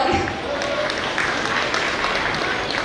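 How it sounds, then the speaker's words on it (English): Dense, sustained applause from an audience at a school gathering at Kingswood School, steady clapping throughout and filling the hall, with faint speech mixed in beneath it. "Keep clapping all."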